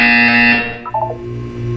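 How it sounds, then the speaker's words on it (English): A sustained electronic buzzer tone from the Portal 2 video game sounds loudly for about half a second, then breaks into a few short warbling beeps before a steady low hum continues. "When you hear the buzzer, look down at the floor."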